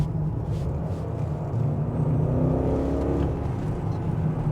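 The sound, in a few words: BMW X5 4.8is V8 engine accelerating and shifting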